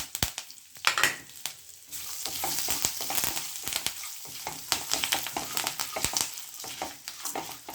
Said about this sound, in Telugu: దీంట్లోకి మనం కరివేపాకు అండ్ రెడ్ మిర్చి కూడా వేసేసుకోవాలి